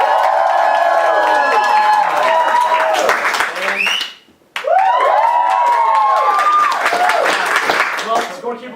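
A theater audience at a TheaterSportz improv comedy match, Child Prodigies vs. Greaseballs, claps and cheers loudly for a team, with whoops and shouts over dense applause, a brief dip to near silence midway, then a strong swell again.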